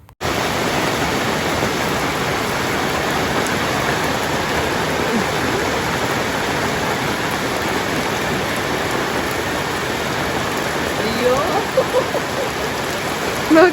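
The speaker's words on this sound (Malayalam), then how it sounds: "ഒരു ഗ്യാപ്പ് പോലും ഇല്ലാതാണ് കേട്ടോ ഇന്ന് മഴ പെയ്തുകൊണ്ടിരുന്നത്." Heavy rain pours without a break around a home, a steady, dense hiss of drops on surfaces that stays loud and even throughout, with no talk over it.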